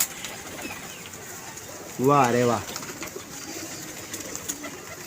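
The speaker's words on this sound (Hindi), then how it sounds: "दोस्तों ये कबूतर भी बड़ा मज़ेदार है यार।" A fancy pigeon at a pigeon club gives one clear, close, rolling coo lasting about half a second, set against quiet ambient noise, with a man exclaiming briefly nearby.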